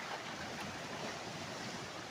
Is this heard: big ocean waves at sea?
yes